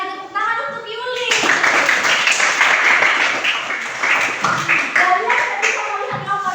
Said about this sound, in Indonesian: Tepuk tangan untuk Yuli.